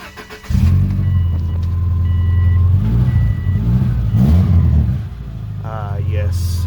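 A 2003 Subaru Legacy engine idles with a new, loud exhaust, a steady deep rumble that swells briefly and drops back, with faint talk near the end.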